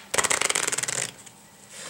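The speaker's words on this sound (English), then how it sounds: "Now I'll give the deck a shuffle as well." A deck of playing cards is riffle shuffled once, a quick close run of crisp fluttering snaps lasting about a second, followed by quiet.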